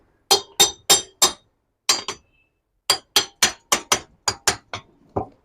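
A refrigerator compressor's lid is set in place and fitted on top, giving about fourteen sharp, close clicking knocks in two uneven bursts with a short pause between, and no voices.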